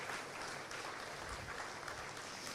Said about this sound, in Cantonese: 我希望大家用再熱烈嘅掌聲，可以感謝呢一班準時嘅校長、